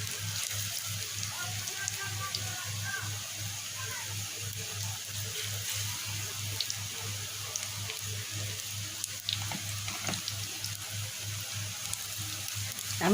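Steady hissing sizzle of pointed gourd vine paste fritters frying in hot oil, a dense continuous crackle with a low hum beneath, close and even throughout.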